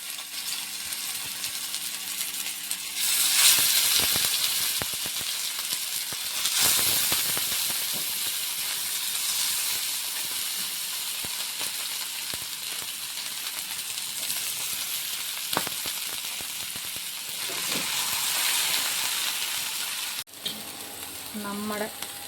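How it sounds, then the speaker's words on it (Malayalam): Sardines fry on a flat pan in hot coconut oil, crackling in a loud, dense, continuous sizzle with occasional surges and a few small clanks near the end. "നമ്മുടെ മത്തി പൊള്ളിച്ച് ഒരു പുറം റെഡിയായിട്ടുണ്ട്."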